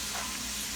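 Garlic simmering in a pan for a shrimp and grits breakfast gives off a steady, close, broadband sizzle and hiss that holds even through a short moment, with no talking.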